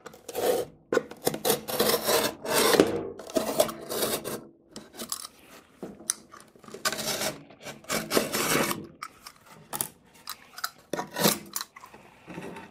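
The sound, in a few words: utility knife cutting back side of drywall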